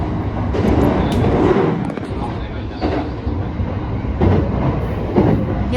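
An E259 series Narita Express train rumbles along the tracks above ground in Tokyo with a steady roar and occasional clicks and clatter, heard from inside the carriage, with voices faintly underneath.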